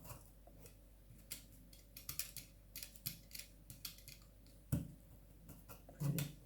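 Scissors snip repeatedly through thin material during a knitting craft session, a close, quiet series of crisp cuts in an irregular rhythm with a couple of heavier clacks.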